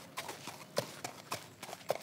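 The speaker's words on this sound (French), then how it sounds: "Un cheval qui marche au pas se déplace à une vitesse d'environ 7 km/h." A horse walks at a slow pace, its hooves striking in an irregular clip-clop rhythm, each hoofbeat sharp and close, with faint outdoor ambience between steps.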